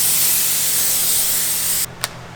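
A spray gun hisses steadily at close range while laying a light check coat over Bondo filler on a Honda Civic body, then cuts off with a brief final burst.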